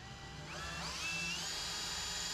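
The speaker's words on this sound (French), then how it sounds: "je fais un trou" An electric drill bores a hole into a wall for fixing shelves, its motor whine climbing in pitch as it spins up and then holding a loud, steady drone close by, with no talking.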